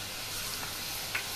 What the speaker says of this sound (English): I'm frying